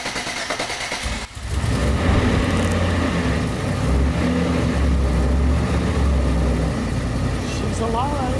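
A car engine fitted with Holley EFI cranks briefly, then catches and settles into a steady, loud, rumbling run in a garage, with a voice speaking over it.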